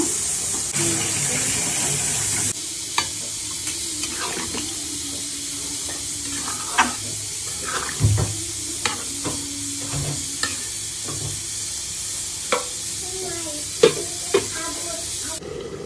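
Beef curry being stirred in a pot after water is added, with a steady sizzling hiss and repeated sharp clicks of the spoon against the pan, close and continuous.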